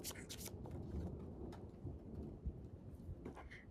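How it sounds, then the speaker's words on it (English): Steady rain hissing outdoors with gusty rumbling noise, a few louder bursts and rustles over a continuous wash; no talking. "it's like starting to get windy and rainy out here"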